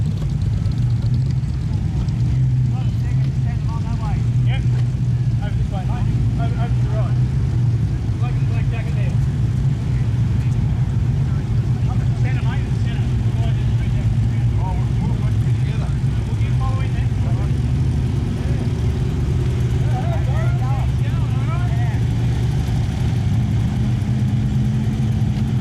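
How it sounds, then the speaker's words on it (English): A convoy of four Holden UC Toranas, with 1.9-litre four-cylinder or 3.3-litre inline-six engines, rolls past at a car show, a continuous low engine drone with wind-like rumble and no clear pauses. "here we have 4 UC Toranas in convoy"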